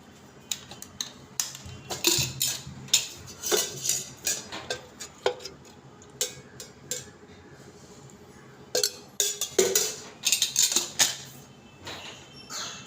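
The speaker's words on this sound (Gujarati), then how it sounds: "હવે 1 મિનિટ હલાવવાનો, સડે ત્યારે જ હલાવવાનો" Rice flour khichu dough is stirred in a pan with a spatula, giving a steady run of metallic scrapes and clinks close up, with no talking.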